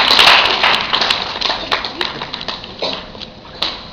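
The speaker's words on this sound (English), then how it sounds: "So give a round of applause and welcome Vince to the stage." An audience applauds to welcome a speaker onto a seminar stage, with a burst of scattered hand clapping that thins out and fades over a few seconds.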